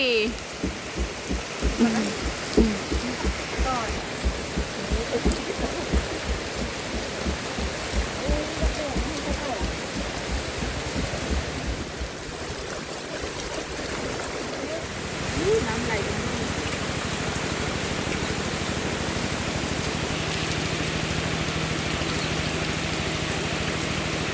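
Steady rain falls outdoors after rice planting in rural Thailand, a continuous broadband hiss with pattering drops, busier and uneven early on and then settling into an even wash; a voice is briefly heard talking near the start.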